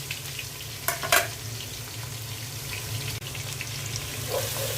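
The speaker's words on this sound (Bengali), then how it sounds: "এখন আমি পেঁয়াজ দিয়ে দিচ্ছি।" Onions drop into hot oil in a cooking pot and fry with a loud, continuous sizzle and crackle, with a few sharp stirring clatters early on, all close up and without speech.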